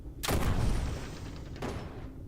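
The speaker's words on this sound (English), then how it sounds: "Then we have the artillery cannon" Artillery cannon in the Armored Core video game fires a single heavy blast, a loud broadband boom followed by a sustained rumbling roar and a second softer burst near the end.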